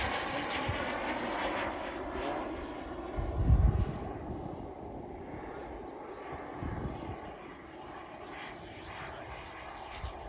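A CARF Eurofighter RC model jet flying during its maiden flight, heard as a steady airborne roar held at a distance across the whole span, with a brief louder swell partway through as it passes nearer.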